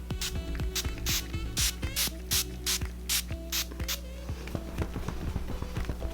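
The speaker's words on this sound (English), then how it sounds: "the spray is like darts out at you, so you gotta like spray like this." Charlotte Tilbury foundation setting spray fires in a series of short, sharp hissing bursts with a clicking pump action, roughly a dozen quick sprays in an irregular rhythm.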